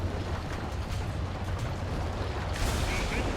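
A tank is bombed in War Thunder, giving a dense, rumbling roar of explosion and debris with a fresh heavy burst near the end, loud and continuous.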